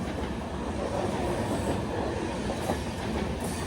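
A train rolls along the railway at Munroe Island in Kerala, a steady rumbling clickety-clack of wheels over rail joints that stays constant and moderately loud throughout, with no voices.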